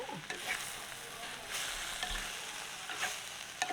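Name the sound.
radish being sautéed and stirred in oil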